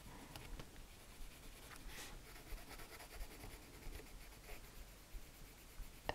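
Pen coloring along the edge of Santa's beard on a handmade card: a soft, continuous scratchy rubbing of the pen tip on card, close and quiet, with no talk.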